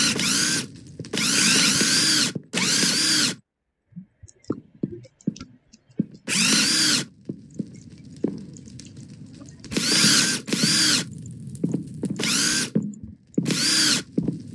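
A screwdriver drives parts in during a Minecraft roleplay game, heard as several loud bursts of powered whirring separated by quieter clicks and rattling mechanism sounds, with no speech.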